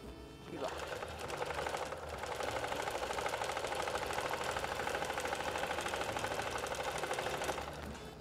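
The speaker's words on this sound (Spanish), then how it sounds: "ahora vamos a coser la otra parte del guante" A sewing machine runs steadily for several seconds, stitching a kitchen oven mitt with a fast, even mechanical chatter that starts and stops, close and clear.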